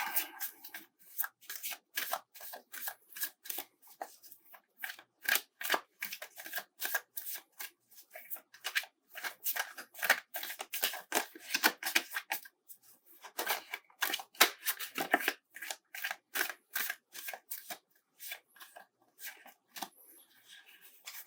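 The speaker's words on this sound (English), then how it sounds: "so shuffle these one more time" Tarot cards are shuffled over and over, a quick riffling rustle repeating in short bursts with small gaps, close and crisp in a quiet room.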